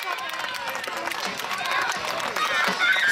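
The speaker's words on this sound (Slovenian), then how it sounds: "En aplavz." Applause and cheering from a crowd at a school basketball tournament game ending, with steady clapping and voices filling the hall, growing slightly louder toward the end.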